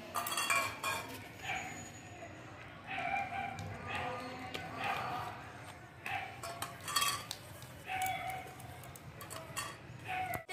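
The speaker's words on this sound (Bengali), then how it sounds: "এই বাটিগুলোতে তেল মাখিয়ে নেবো" Small bowls clinking and scraping on a kitchen counter as they are handled and greased with oil before steaming semolina idli, faint intermittent clatter with a rooster crowing in the distance.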